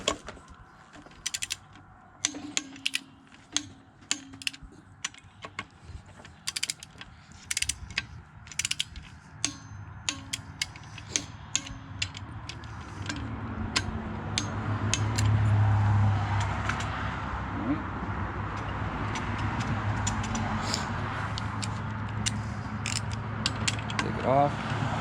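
Ratcheting wrench tightening engine bolts on a piston engine during a rebuild, a series of quick clicking pawl strokes in irregular bursts, close and fairly quiet, with mechanical shuffling and a low hum underneath.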